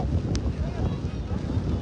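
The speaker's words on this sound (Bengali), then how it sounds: "প্রচন্ড বাতাস, ঝড়ো বৃষ্টি" Stormy weather on the Cox's Bazar coast, with strong wind buffeting the microphone in a steady, heavy roar that continues unbroken throughout, and rain hard to pick out beneath the blast.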